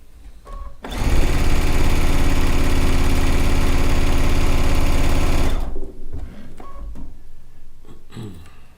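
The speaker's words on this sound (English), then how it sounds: "I am using the digital dual feed foot with the quarter inch piecing plate on it" A sewing machine fitted with a digital dual feed foot and a quarter-inch piecing plate runs in one loud, steady whir of about five seconds. Short, quieter mechanical bursts follow it.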